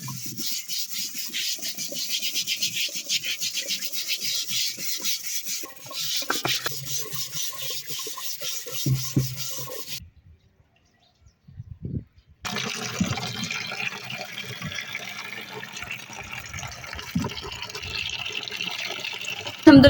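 Dirty, algae-stained clay water pots being scrubbed and rinsed, giving close rough rubbing with splashing water, a short pause of near silence, then more scrubbing and watery sloshing.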